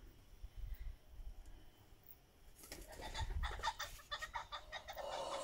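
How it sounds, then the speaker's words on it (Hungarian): A bird stirs and calls near nests outdoors, faint scuffling giving way to a burst of repeated clucking, cooing calls in the second half. "Az mi? Van madár."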